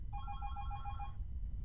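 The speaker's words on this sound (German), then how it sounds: "das Telefon lasse ich jetzt klingeln" A telephone rings in the PC game Tomb Raider III, one clear electronic ring lasting about a second over a quiet low hum.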